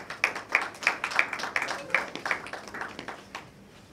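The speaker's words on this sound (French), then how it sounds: "on applaudit s'il vous plaît" Scattered clapping from a small crowd, a few hands at first then fading out, with murmured voices underneath.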